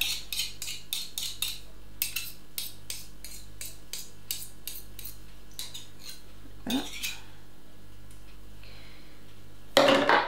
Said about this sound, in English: Just scrape that off.